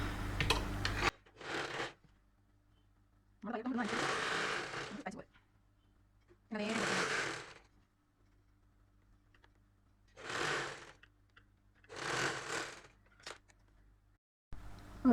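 A sewing machine stitches the side seam of a saree blouse in about five short, even bursts of whirring, each a second or two long, separated by quiet pauses.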